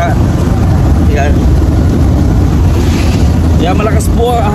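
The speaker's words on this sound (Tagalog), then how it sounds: "malakas po ang hangin na dulot ng low pressure area" Strong wind from a low pressure area roars steadily against the microphone near an airport, a dense, loud rumble with faint voices and rain-like hiss underneath.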